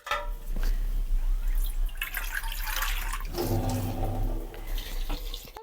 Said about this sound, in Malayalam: എന്നിട്ട് വെള്ളം ഒഴിക്കും.